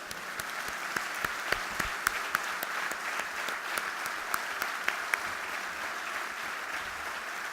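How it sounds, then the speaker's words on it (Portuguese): A party congress audience claps in a steady round, with a few sharp, distinct claps standing out above the crowd's even patter throughout. "vamos dar uma salvinha de palmas a eles"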